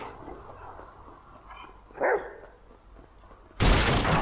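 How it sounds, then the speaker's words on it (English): Chop the dog in GTA 5 gives a short bark amid low game ambience, then a sudden loud burst of noise cuts in at the end. "That's a good dog."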